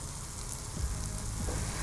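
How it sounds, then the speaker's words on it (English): Sake hitting a hot buttered pan to deglaze it, a loud continuous close sizzle with bubbling crackle, steady and with no voices. "I want to deglaze the pan with some alcohol, and I'm going to use some sake"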